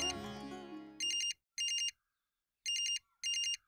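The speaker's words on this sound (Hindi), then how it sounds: "तुम्हारा फोन है।" A telephone rings in four short electronic bursts with pauses between, following a swell of background music that fades out.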